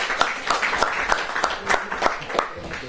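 An audience at a football club's Christmas gathering applauds with steady, rhythmic clapping that continues throughout, moderately loud and close.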